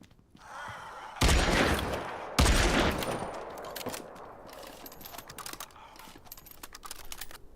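Bursts of gunfire in the video game SAND, two loud, sharp volleys close together followed by a decaying tail and scattered quieter shots and clicks, with no talking.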